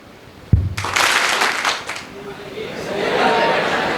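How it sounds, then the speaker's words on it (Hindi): A whole hall of students claps on cue after a single sharp tap, producing a ragged burst of clapping that is loud and brief, then fades into murmuring crowd chatter and light laughter. "जब मैं इस पर एक टैप करूंगा तुम लोग के एक ताली की आवाज़ आनी चाहिए पूरे हॉल से"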